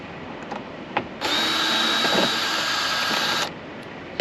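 Power drill backing out screws from the cover of a Coleman Mach 5 rooftop AC unit, one steady whirring run of about two seconds, close and loud, with faint handling noises before and after.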